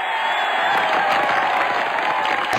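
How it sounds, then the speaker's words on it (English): Loud crowd cheering sound effect, a thick wash of whoops, shouts and clapping sustained without pause. "Okay, some cheering."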